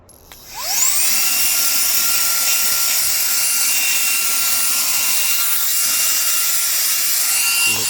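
A Reikiya mini handheld cordless vacuum cleaner switches on with a rising whine, then holds a loud, steady high-pitched motor hum close by, alone for several seconds.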